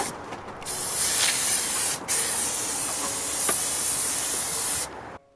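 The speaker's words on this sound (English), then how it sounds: "so I took it outside to give it a nice spray once again" Continuous loud hiss of an aerosol spray adhesive can, sprayed outdoors, held for several seconds with a brief break near the middle, then cutting off abruptly.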